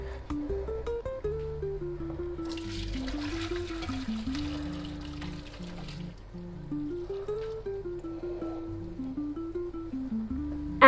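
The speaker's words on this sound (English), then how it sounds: "I put the sieve on top of that and then drain it." Pasta water drains through a sieve in a home kitchen, a rushing, splashing pour of a few seconds that sits beneath steady melodic background music.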